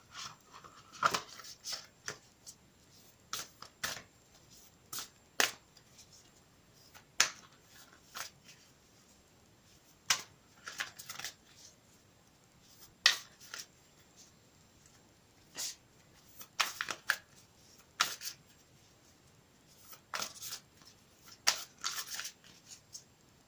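A deck of cards being shuffled nearby, with crisp, irregular clicks and riffles spread throughout, fairly quiet and without speech.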